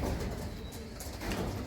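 Racing pigeons in a loft coo in soft, repeated low calls that overlap into a murmuring chorus, close by, with faint higher chirps and no talk.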